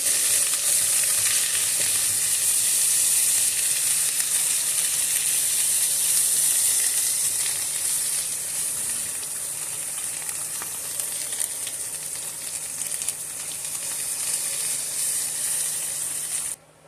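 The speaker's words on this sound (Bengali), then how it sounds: "সামান্য পরিমাণে শুকনো মরিচের গুঁড়া দিয়ে দিব ভালো করে নেড়ে চেড়ে মিশিয়ে নেব" Mustard hilsa frying as dry chili powder is stirred in, a steady loud sizzle and hiss from the pan with faint stirring scrapes underneath, continuous throughout with no voices.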